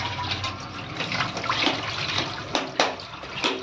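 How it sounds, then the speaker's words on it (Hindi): Water splashes and pours while a clay cooking pot is rinsed and scrubbed, a steady close wash with a few sharper splashes near the end and no talk. "मटके को बढ़िया धुल देना है,"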